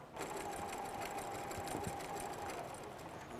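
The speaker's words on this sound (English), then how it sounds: "you don't want to sew over your pin. Nope. Just come right to it and stop." A sewing machine runs steadily while stitching pieces of a quilt test block for a Y seam, a continuous close mechanical whir with fast needle chatter and no voices over it.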